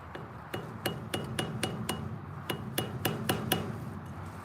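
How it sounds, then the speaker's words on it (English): A metal trailer grease cap is tapped with a tool to crack it loose, about a dozen sharp, bright clinks in an uneven rhythm, close and fairly quiet over a low background. "you tap on it until you get a good crack in there"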